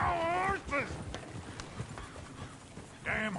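Horses clip-clopping in the video game Red Dead Redemption 2, a busy run of hoof clops mixed with horse whinnies, while someone speaks loudly over the scene.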